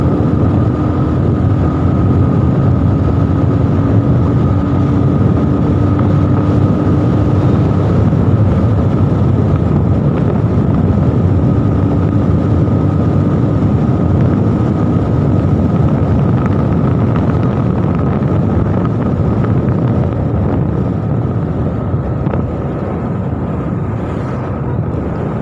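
Motorcycle ridden at speed on a road near Jagdala Dam in Keonjhar, its steady engine drone mixed with heavy wind rush, loud and continuous throughout with no talking.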